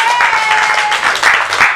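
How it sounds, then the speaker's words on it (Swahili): A church congregation claps for Jesus during a lively service, with dense, continuous applause in uneven surges that stays loud and close throughout. "Pigie Yesu makofi mengi."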